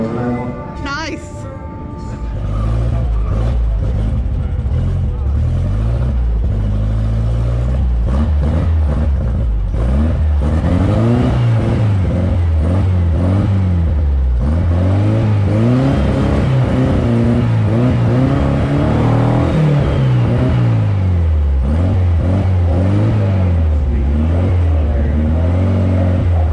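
A classic Porsche Spyder makes a drag racing run, its engine revving hard and rising and falling through the gears in a loud, sustained roar, while an announcer talks over it.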